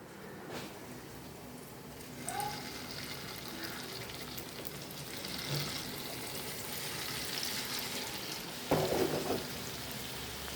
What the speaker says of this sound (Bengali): এই যে আমি বলগুলো করে নিয়েছি, এবার এগুলো ভেজে নেব।